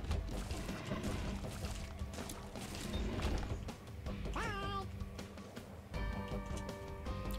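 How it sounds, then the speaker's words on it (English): Several big cats meow in a video game, with a rising yowl near the middle and another drawn-out meow toward the end, heard over busy game music and clatter. "Watch out, the kitty cats, the big ones."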